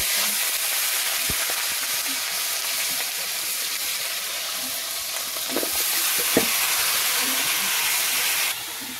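Meat frying in a hot pan with sauce in a village kitchen, a steady loud sizzle running throughout, with a few brief stirring clatters and a sudden drop in hiss near the end.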